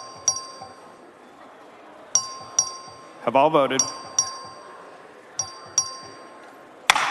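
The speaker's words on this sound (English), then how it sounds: "The clerk will ring the bell." Voting bell rung by the clerk in the Texas House chamber during a record vote on a Senate bill: several bright, ringing dings spaced through the clip in a large reverberant room, with a short spoken line in the middle.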